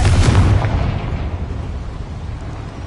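A Confringo spell explosion from Hogwarts Legacy bursts with a loud, deep boom that opens at once and then rumbles and fades steadily over a few seconds, with no talk over it.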